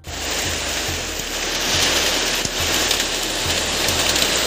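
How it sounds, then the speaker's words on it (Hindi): Hail and rain pelting down at a college during a storm, a loud continuous hiss of rainfall with scattered sharper taps and knocks from hailstones striking nearby surfaces. "ओले बरस रहे गाइस, ओले ओले।"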